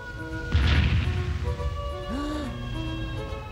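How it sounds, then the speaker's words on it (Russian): A single heavy cannon shot booms out and rolls away, followed by a faint whistling tone and a soft sustained hum in the background. "Мина выстрелила из пушки!"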